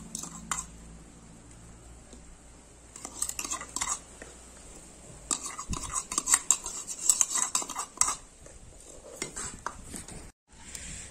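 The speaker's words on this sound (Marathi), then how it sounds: "तर डायरेक्टली ना या कढईमध्ये असं मी ओतणार आता. तर ना पूर्ण फोडणी आता या डाळीमध्ये टाकून घेते." Tempering poured into moong dal in a kadhai, then stirred with a metal spoon: close, irregular clinks and scrapes against the pan, growing busier midway, with no talking.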